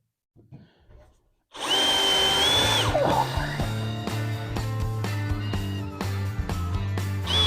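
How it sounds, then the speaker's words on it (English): A power drill whirs loudly and steadily after a few faint knocks, its motor pitch shifting slightly as it bores in, close and continuous. "And we'll drill."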